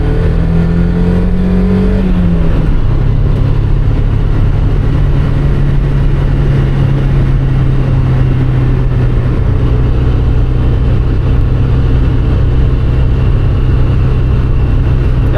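A car engine and exhaust drone steadily while driving, loud and close throughout, with a pitch shift early on as the engine changes speed and a faint rattle buried under the roar.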